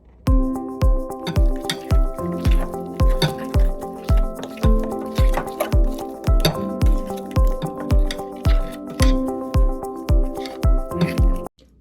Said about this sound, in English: Once you put your 2 tablespoons of water into the bowl,